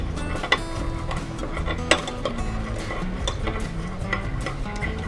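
Eggs being stirred in a small bowl, a busy run of clinking and scraping of utensil against dish with a couple of sharper knocks, close up and with nobody speaking.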